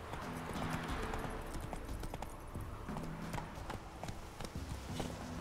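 Roach the horse clip-clops along a clifftop in The Witcher 3, a steady close rhythm of hoofbeats over ambient game audio, with no speech over it.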